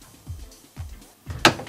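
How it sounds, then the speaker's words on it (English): A drawer slides on soft-close drawer runners in a modular range kitchen, giving three short rolling glides close by, the last ending in a sharp click. "Move the drawers like this."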